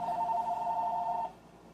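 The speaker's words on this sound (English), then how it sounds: "during this recording, my telephone is ringing, and it's probably spam" A home telephone rings with a steady, sustained electronic tone for over a second, then cuts off and leaves quiet room sound behind.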